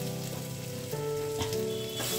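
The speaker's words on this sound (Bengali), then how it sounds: "মশলা কিন্তু আমার একদম ভাজা ভাজা হয়ে গেছে" Spice masala with Kashmiri chilli powder fries in a pan, giving a close, loud, continuous sizzle with faint clinks of stirring; no voices.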